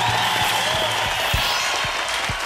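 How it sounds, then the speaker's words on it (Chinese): A studio audience on a Taiwanese variety show claps steadily to welcome a guest onstage, a loud, even burst of applause that stays constant throughout, with faint voices beneath. "掌声欢迎玛格丽特！"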